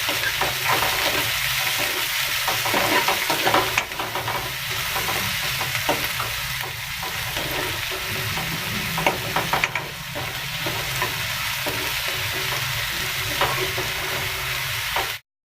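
Two to three finely chopped onions frying in hot oil in a kadai for kadai paneer, with a constant close sizzle and repeated scraping and stirring strokes of a ladle throughout.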